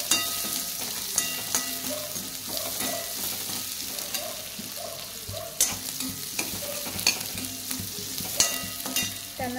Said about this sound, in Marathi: कांदा पण गोल्डन ब्राउन रंग येईपर्यंत आपल्याला तेलात परतून घ्यायचा।